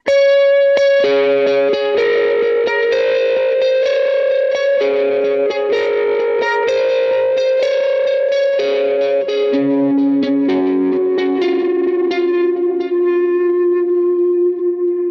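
Sustained electric guitar notes and chords ring out with echoing repeats and a wash of reverb trailing behind each one, the delay and reverb run in parallel so the reverb doesn't process the delay repeats, via a Line 6 HX Stomp.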